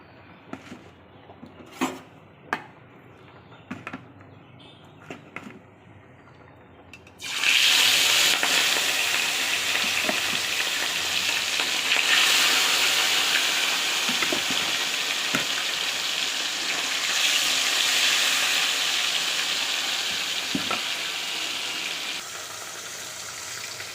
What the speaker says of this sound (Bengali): এবার মাছটাকে আমি তেলের উপর দিয়ে দেবো, ভেজে নেব। এই যে আমার কড়াইয়ে তেল গরম হয়ে গেছে।